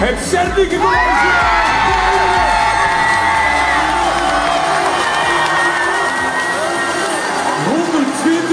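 A large school crowd at a Zernike College awards finale screams and cheers loudly and without a break, a dense wall of shrieks and whoops that stays near and intense throughout.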